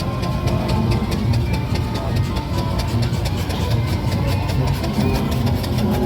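A rebuilt Sandbach-built Foden steam wagon at the Whitby steam rally 2024, its engine running with a continuous rumbling mechanical churn and a fast, regular ticking beat over it, steady and fairly close throughout.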